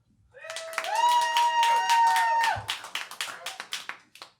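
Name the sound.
audience applause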